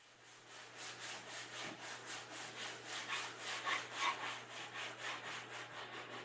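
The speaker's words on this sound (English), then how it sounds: "Somebody's sawing." Wood is hand-sawn somewhere nearby during kitchen work, a regular back-and-forth rasping of even strokes heard at moderate distance against a faint steady hum.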